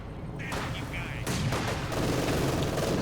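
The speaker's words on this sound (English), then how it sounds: "Mortar firing away." Mortar fire in the WWII strategy game Company of Heroes 2, loud battle noise with several sharp blasts and a dense, continuous rumble of gunfire and explosions throughout.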